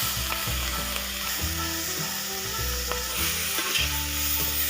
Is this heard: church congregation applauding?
no